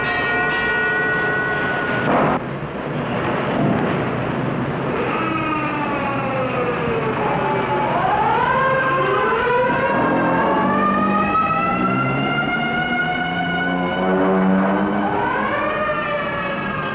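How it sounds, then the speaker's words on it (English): A civil defense siren wails over a city in 1957, a loud sustained rising and falling tone layered with echoing overlapping wails that swell and fade across the whole stretch. "At 10:35, the banshee wail of the siren echoes the warning"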